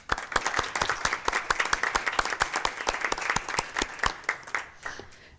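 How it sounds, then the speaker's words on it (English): Applause from the audience at a board meeting, a modest crowd clapping steadily and fairly close, fading out toward the end with no voices over it. "if we can still give them a round of applause"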